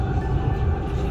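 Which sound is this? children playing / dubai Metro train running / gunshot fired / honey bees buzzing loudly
dubai Metro train running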